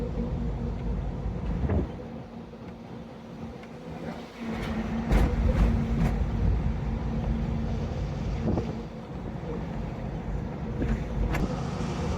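A Bharat Benz truck drives along the road with a steady engine drone, road rumble and wind noise throughout, and occasional rattles and knocks from the cab.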